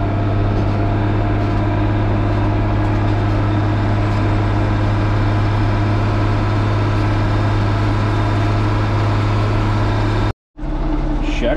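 An old farm tractor's engine runs steadily after sitting unused, a loud, continuous low drone that cuts out briefly near the end before resuming.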